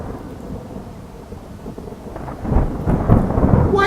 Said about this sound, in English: I think we're going to have a bad storm.